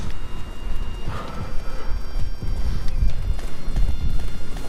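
Horses gallop in the Attack on Titan video game on PS4, a steady clip-clop of hooves running continuously under a dense, loud game soundscape with no talk.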